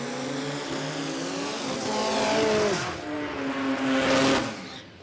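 Drag racing cars in the Street 289 final, a piston engine against a rotary, one of them an 1800cc Gemini, screaming close by as the engines rise and fall in pitch through gear changes, with tyre squeal and a second surge near the end.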